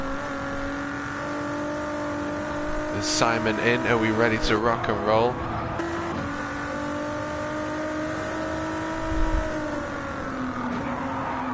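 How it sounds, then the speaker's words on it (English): A V6 race car engine in a racing video game holds a raspy, steady drone throughout. Someone talks briefly over it near the start. "It sounds like a V8 even though it's a V6. This is raspy."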